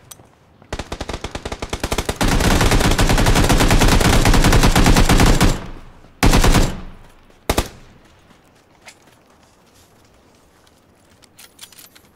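Sustained automatic gunfire in PUBG on a new test-server map: a loud, rapid burst running for several seconds, followed by two short separate bursts, then quiet ambient game sound with faint footsteps.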